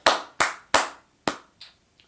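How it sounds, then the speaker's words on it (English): Short bursts of audience clapping at a dialect concert, four sharp loud claps followed by two fainter trailing ones, no talking. "I'm going to have better clapping than that"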